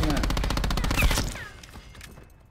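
Fast automatic gunfire from Call of Duty Black Ops 4 rattles in a tight rhythmic stream, then breaks off and tails into fainter shots and game noise.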